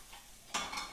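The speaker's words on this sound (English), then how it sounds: "this zucchini that I am sauteing" Zucchini sautéing in a pan, a soft frying hiss with a sudden louder scraping stir partway through, close and alone.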